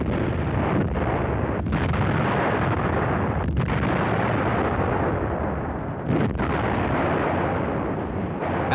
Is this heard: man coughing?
no